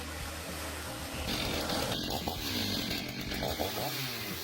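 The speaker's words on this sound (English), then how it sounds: "The saw cuts decisively, the tree slowly moves." A chainsaw cutting through a tree, its engine roaring loud and steady throughout with slight pitch shifts as the blade bites into the wood outdoors.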